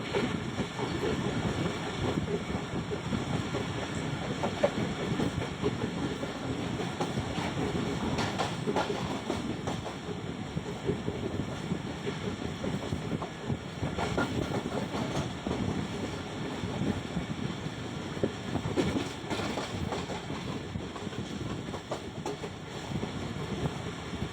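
The Sir Syed Express passenger train, with GU40 locomotive 9031, runs through Mirpur Mathelo railway station without stopping, making a steady, loud rumble with rhythmic clickety-clack of wheels throughout.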